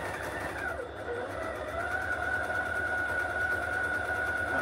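A sewing machine stitching fabric for a flying geese basket, running in one continuous steady whir at close range with a faint mechanical tone and no pauses.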